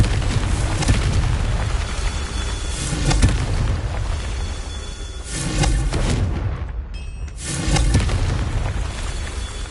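Confringo explosion spells in the Hogwarts Legacy video game boom repeatedly in loud, roaring bursts with rumbling low end, forming a dense, continuous barrage with swells every few seconds.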